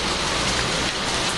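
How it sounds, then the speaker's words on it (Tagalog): Steady rain pours down at a Philippine outdoor grilling spot, a dense continuous hiss of drops filling the short stretch with no voices. "Pasensya na guys, ulan eh."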